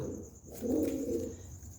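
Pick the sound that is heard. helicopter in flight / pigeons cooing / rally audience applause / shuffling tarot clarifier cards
pigeons cooing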